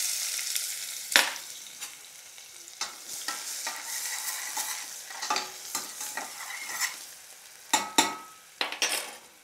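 Onion sputters and sizzles in hot oil in a pan with cloves, cinnamon and cardamom, a close crackle broken by sharp scraping clacks of a spoon stirring, irregular and lively.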